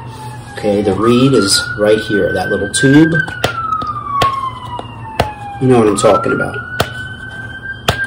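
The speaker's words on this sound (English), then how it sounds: "It's an ambulance passing." An ambulance siren wails with a rising and falling pitch as it passes nearby on Queens Boulevard near a hospital, while someone talks over it.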